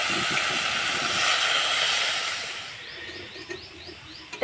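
Paneer sizzles in a pan while being stirred and fried, a steady broad hiss that gradually fades, with a few faint scraping touches near the end and no talking.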